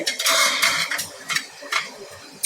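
Metal clanks and scrapes as a lid is fitted onto a pressure cooker of elephant foot yam curry, several close, bright clatters in quick succession with no talking.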